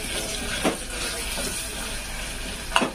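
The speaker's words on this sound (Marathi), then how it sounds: "मी असं या मसाल्याला छान असा फ्राय करून घेणार आहे" Onion and coconut masala fries in oil, giving a soft, steady sizzle throughout with a couple of faint clinks of stirring.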